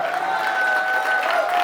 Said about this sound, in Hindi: जोरदार तालियां बजा दे एक बार दोस्तों